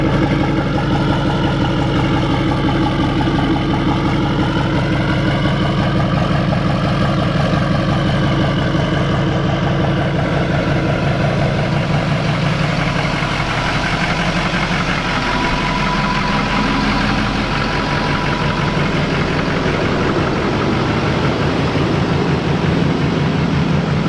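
Deep, steady idle of a Duramax L5P diesel pickup with an S369SXE turbo, a loud continuous rumble with a low throbbing exhaust note that holds evenly throughout.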